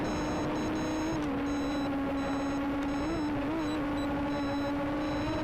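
Drone with its camera recording gives a repeated electronic beeping in regular short bursts over a steady motor hum and whir.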